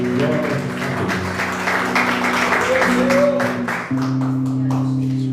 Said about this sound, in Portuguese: Aplauda o nosso Deus, nosso Pai, em nome de Deus.